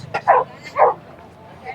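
Dog on a street near a temple in Rishikesh giving two short, close barks a half-second apart, followed by a faint whimper, with a little background noise.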